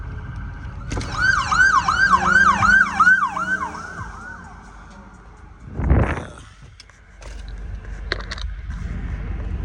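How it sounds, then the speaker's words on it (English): A wailing ambulance siren sweeps up and down repeatedly for several seconds, loud and fairly close over traffic rumble in Atlanta, then fades; a brief burst of noise follows. "Ambulance, prayer for wherever the ambulance going."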